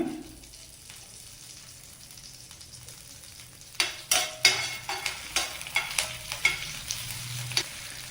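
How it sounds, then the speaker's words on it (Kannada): Curry leaves go into hot oil in a pan. A faint background hiss gives way to a steady run of evenly spaced scraping strokes over a soft, ongoing sizzle, with no one speaking. "ಎಣ್ಣೆ ಕಾದಿದೆ, ಇದಕ್ಕೆ ಸ್ವಲ್ಪ ಕರಿಬೇವು ಹಾಕೋಣ."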